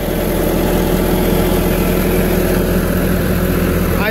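A Massey Ferguson 375 tractor running a tube well turbine, its diesel engine chugging at a steady, loud idle close by with a constant low throb.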